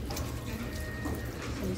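Cold water runs steadily from a tap into a sink during handwashing with soap, a continuous close splashing hiss.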